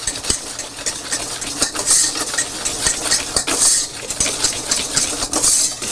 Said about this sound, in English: I want to just fully whisk together the dry ingredients